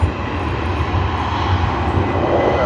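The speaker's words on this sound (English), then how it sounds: "this is another one, SQ211, the evening service on the Boeing 777-300ER" Boeing 777-300ER jet airliner on the evening service at Sydney Airport, a loud, steady roar of engines close by with no voices, holding constant throughout.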